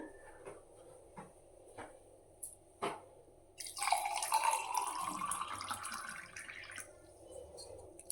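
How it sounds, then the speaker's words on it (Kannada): A few quiet drips, then a steady pour of water into tamarind syrup in a container that gradually fades away, with no talking. "ನಮಗೆ ಎಷ್ಟು ಬೇಕೋ ಅಷ್ಟು ನೀರು ಹಾಕ್ಕೊಳ್ಳೋಣ"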